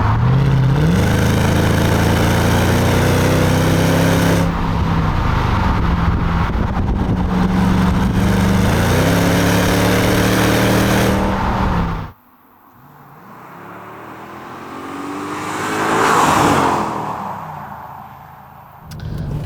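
A Mercedes CLK55 engine pulls hard under full throttle, a loud close roar climbing in pitch through several gear changes, then cutting to a quieter drone before a rising pass-by surge toward the end.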